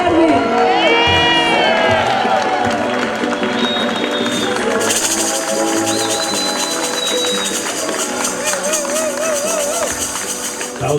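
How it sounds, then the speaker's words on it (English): Crowd cheering and applauding at a Cape Verdean flag raising ceremony, a dense, loud wash of claps, whoops and shouts that carries on without a break and swells partway through. "Please give her another round of applause."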